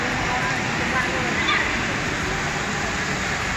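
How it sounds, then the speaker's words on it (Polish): An indoor waterfall in the ICONSIAM shopping mall in Bangkok rushes in a steady, loud, unbroken wash, with indistinct crowd voices mixed in beneath it. "wodospad. Robi wrażenie."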